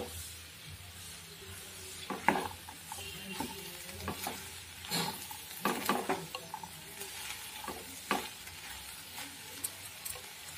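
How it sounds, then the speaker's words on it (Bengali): Potatoes and chickpeas fry in a pan with a soft, steady sizzle. Quiet scraping stirs recur throughout, close and fairly faint. "এবার আলুটা যতক্ষণ না সেদ্ধ হচ্ছে ততক্ষণ আমি ঢাকা দিয়ে ভেজে দেব।"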